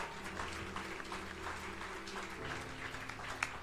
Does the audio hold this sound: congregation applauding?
yes